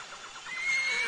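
A horse in a hidden-object adventure game whinnies once, a clear rising, quavering neigh that swells toward the end, heard alone without talk.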